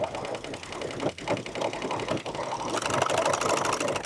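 Sewing machine stitching elastic onto a bathing suit, a steady mechanical whirring with rapid needle ticking that speeds up and grows louder toward the end.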